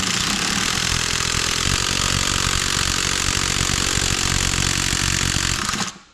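An 18-volt impact driver works loose a spark plug on an old truck, giving a loud continuous rattling hammer-buzz for about six seconds that cuts off abruptly at the end.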